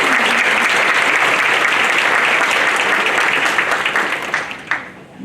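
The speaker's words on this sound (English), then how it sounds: "If there are past presidents in the room, would you please stand? Because you earned a round of applause." A room of attendees at an annual association meeting breaks into loud, sustained applause for standing past presidents, dense clapping that thins into a few last claps near the end.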